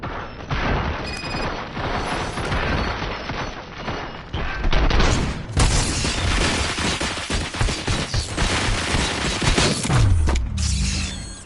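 Sustained gunfire in the RoboCop video game, dense loud bursts and crashing impacts filling the whole stretch with little pause, ending in a short low rumble.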